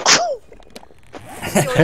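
A single sharp sneeze bursts out at the start, followed by quieter game sounds and a brief voice near the end.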